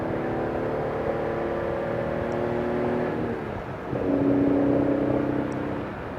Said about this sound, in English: Listen to that engine go. True sports car